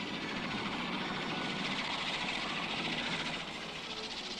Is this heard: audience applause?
no